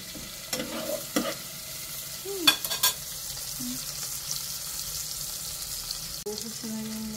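Eggplant is stirred into a sautéing ginisang monggo mung bean stew. A spoon scrapes and clatters against the pot in a few uneven strokes over a constant background frying sizzle.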